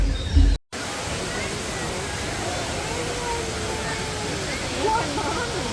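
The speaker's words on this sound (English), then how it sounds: "That beautiful water fountain." Steady rushing splash of a water fountain at Pandora in Disney's Animal Kingdom at dusk, a broad continuous wash of falling water with faint crowd murmur mixed in.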